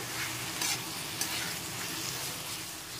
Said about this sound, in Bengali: এখন ডালিয়াটাকে সবজির সাথে ভালো করে নেড়েচেড়ে মিশিয়ে নিয়েছি।